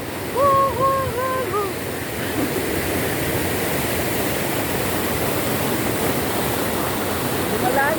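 Rushing water of a waterfall at Lettac Norte, Santol, La Union, a loud steady broadband roar heard close by, with a few brief bird-like whistles riding over it near the start and end.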